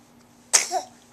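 A young girl sneezes once, a single sharp burst close to the listener in a quiet room, with a short breathy tail after it.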